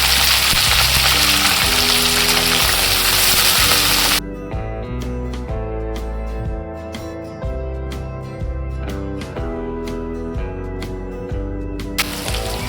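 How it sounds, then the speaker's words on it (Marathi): A sliced large onion goes into hot oil with cumin and sizzles loudly for about four seconds under steady background music, then fades, with the sizzle briefly returning at the end. "आपण एक मोठा कांदा उभा करून घेतला, तो टाकून घेऊया।"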